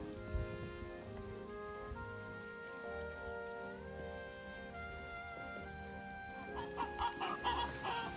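Silkie chickens cluck softly as they eat, with steady pecking taps close by and a background of bird calls outdoors in a village yard.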